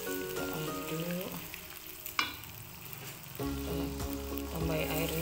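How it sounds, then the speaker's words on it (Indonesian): Goat liver frying with aromatics in a pan, a steady loud sizzle with stirring scrapes and a sharp clink partway through, set under background music. "masukkan juga aromatiknya, kita aduk"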